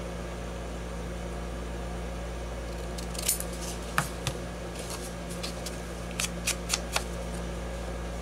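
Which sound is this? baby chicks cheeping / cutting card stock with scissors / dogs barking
cutting card stock with scissors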